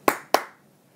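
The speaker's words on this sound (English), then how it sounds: "Ooh, 2 claps for you." Two crisp hand claps sound close by in quick succession, each sharp and ringing briefly, followed by quiet.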